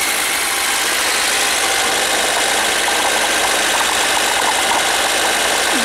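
An engine runs steadily throughout, a dense, even mid-range drone with faint knocking, alone and close with no talk, beside a cellar being repaired.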